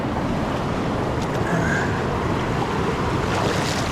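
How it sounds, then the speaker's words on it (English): Fast-flowing river water rushes loudly and steadily around a person wading in among the rocks, a dense continuous roar with no voices. "Water's gonna be pretty crazy fast"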